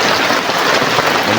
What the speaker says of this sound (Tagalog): Ang lakas po talaga kasi ng ulan.